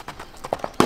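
Kiso horse, a Japanese breed, being ridden in Japan, its hooves clip-clopping in a few distinct close strikes, the last one loudest, over a short quiet stretch.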